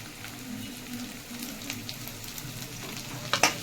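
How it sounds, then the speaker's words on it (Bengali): Garlic frying in a pan for a homestyle curry, a steady close sizzle with light stirring scrapes and a couple of sharper spatters near the end. "রসুনটা দিয়ে দিচ্ছি"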